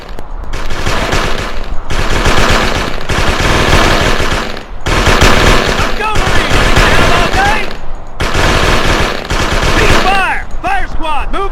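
Rapid Tommy gun bursts at a weapons range in an animated movie, loud sustained automatic fire in several long volleys separated by brief gaps, with whistling ricochet-like effects toward the end.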